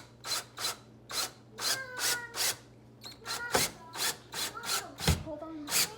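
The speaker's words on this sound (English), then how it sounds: "I'm just drilling into the pine." Repeated short rasping bursts, about a dozen in steady rhythm, each a brief broadband grind of a drill bit biting into pine wood, close by with a low hum underneath.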